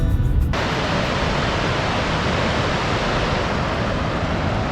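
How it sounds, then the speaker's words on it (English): A waterfall in Nantahala National Forest near Highlands, North Carolina, pours in a loud, steady broadband roar that fills the whole clip without letup, up close and with no voices. "this is the first waterfall on our trip"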